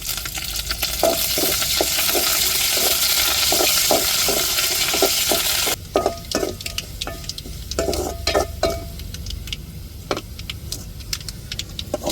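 Curry leaves hit a hot oiled pan with onions for a South Indian kuzhambu, a loud steady sizzle and crackle that drops to softer frying with a spoon scraping and stirring, no talk.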